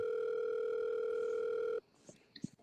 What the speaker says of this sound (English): That's someone's phone ringing?